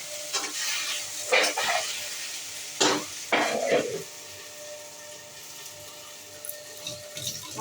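Leafy greens sizzle in a hot pan while being stirred, with a few louder scraping, sputtering bursts early on that settle into a quieter, steady frying hiss.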